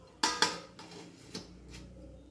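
A metal lid lifted off a steamer pot used for cooking coriander fritters, two sharp clanks close together followed by a few softer metallic taps and rattles, fairly quiet with no talking.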